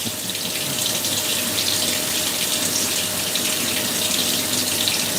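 Warm water runs from a tap in a steady, even splashing stream that lasts the whole stretch, with no voices over it.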